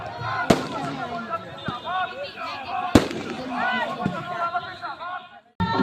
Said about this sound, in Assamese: তাতে পূৰা ফটকা ফুটি আছে